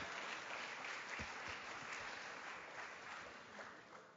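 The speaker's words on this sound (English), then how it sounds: "let's have a loud round of applause for all our winners so far" A sustained round of audience applause at a film festival closing ceremony in Mumbai, a dense, even wash of clapping from a large crowd that continues steadily for several seconds at moderate distance.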